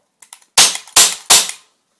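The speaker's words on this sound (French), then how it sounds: "Il est à CO2. Quand je tire," Sig Sauer 1911 CO2 air pistol fired three times at close range, each sharp crack followed by a brief hiss, with a few small clicks before the first shot.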